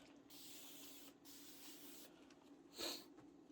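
Quiet hissing spritz from a spray bottle onto fabric before ironing, a short soft burst followed by a sharper, louder puff near the end.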